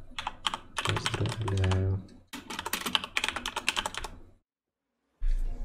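Quick bursts of computer keyboard typing as a message is written, a close rapid clatter in two runs with a brief silence, then more keystrokes, while a voice speaks briefly.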